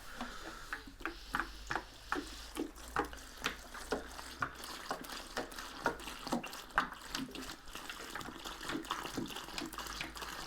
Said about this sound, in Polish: Moczymy sobie całą linę w płynie